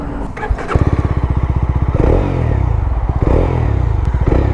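A motorcycle engine idles with a rapid, lumpy thump, then revs up loudly and stays at a high, steady roar close by.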